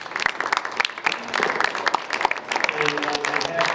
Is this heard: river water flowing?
no